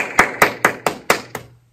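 Six sharp, evenly spaced hand claps from a children's Sunday school service at a church, crisp and close, followed by silence.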